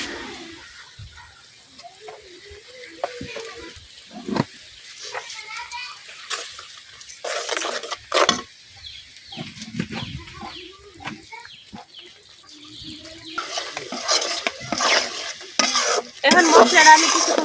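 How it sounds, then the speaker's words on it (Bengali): Spice masala fries in a pan while being stirred, a sizzle broken by scraping and clattering strokes that grow louder and denser toward the end, with a rooster and farm animals faintly audible in a village setting. "এখন মশলাটা আমি কিছুক্ষণ কষাই নিলাম।"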